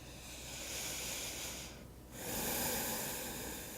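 Slow, deep meditative breathing, a long soft airy inhale or exhale, a brief quiet pause near the middle, then another sustained breath; close and faint with no talk.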